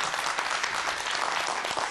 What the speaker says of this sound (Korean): 오늘 좋은 강연해 주신 황 소장님에서 다시 한번 큰 박수 부탁드릴게요.